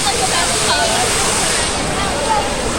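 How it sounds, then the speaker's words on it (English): Rushing water from a waterfall in a wave pool at Disney World's Blizzard Beach water park, a steady broadband roar filling the scene with voices talking over it. "Look, there's a waterfall."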